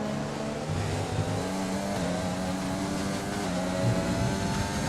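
A Ford F1 car in the racing game F1 2020 howls with a steady, high-revving engine drone throughout, alone with no voices.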